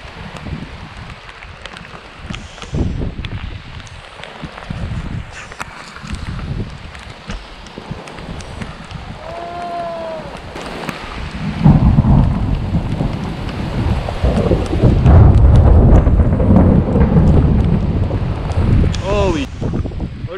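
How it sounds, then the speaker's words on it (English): Heavy rain and gusting wind roar against the microphone overnight in a thunderstorm, building louder midway, with deep rumbles of thunder and a few brief voice-like sounds. "there's some even more powerful rain and wind coming in right now"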